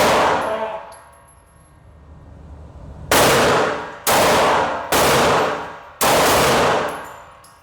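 Four sharp, loud pistol shots from a Canik TTI fired at an outdoor range, spaced about a second apart, each ringing out with a decaying tail after a quieter lead-in.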